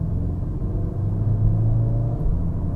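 A VW Golf R with a DSG gearbox in race mode accelerates hard in a steady engine rumble from inside the cabin, with a rising tone that marks a gear change.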